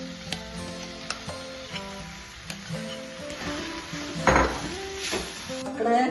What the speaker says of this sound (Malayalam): അതിലേക്ക് ചിക്കനും ഉരുളക്കിഴങ്ങും പൊടിച്ചത് ഞാൻ ഇതിലേക്ക് ഇടുന്നുണ്ട്